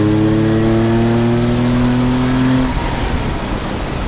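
A JFC race car engine with no driver aids, revving hard and accelerating loudly, its rising harmonic drone steady and close for over two seconds before cutting off into rough, rumbling idle-level vibration.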